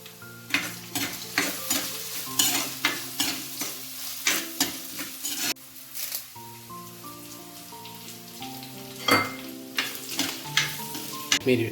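Crushed ginger and garlic fry in a pan, sizzling loudly up close while a spoon stirs in repeated scraping strokes, the sizzle settling briefly before rising again with more stirring.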